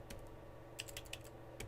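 Keys clack on a computer keyboard while a network interface is entered on a Cisco IOS router configuration, a few quick separate taps followed by a tight cluster of keystrokes, close and fairly quiet, with no talking.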